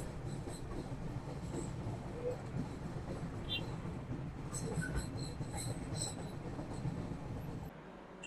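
A Kolkata–Sairang Express train runs at night between Farakka and Malda Junction, its wheels and carriage rumbling steadily with faint squeals and rattles, heard from inside the coach under some low background voices.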